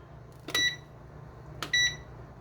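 Two short electronic control beeps sound, about a second apart, as an oven is set for a DiGiorno stuffed crust supreme pizza; the beeps are clear and close over a quiet room hum.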